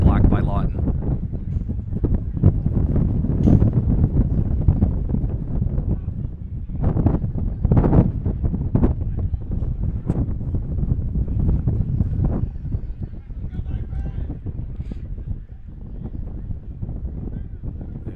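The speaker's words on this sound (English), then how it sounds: "With all this wind, it's got to be difficult to hear down there on the field." Strong gusting wind buffets the microphone at an outdoor quidditch match, rumbling steadily beneath continuous commentary from announcers.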